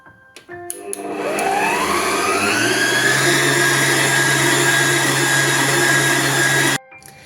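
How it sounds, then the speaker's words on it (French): A kitchen robot mixer beats waffle batter with a loud, steady motor whir that starts abruptly, holds a constant pitch for several seconds, then cuts off sharply. "C'est mon robot qui fait le boulot."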